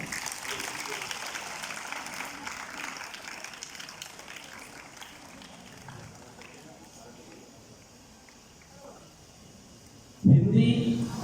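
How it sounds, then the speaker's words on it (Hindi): A school audience at a Hindi quiz competition applauding students, a sustained wash of clapping from many hands that slowly thins, before a voice comes in loudly at the end. "इन बच्चों के लिए जोरदार तालियां।"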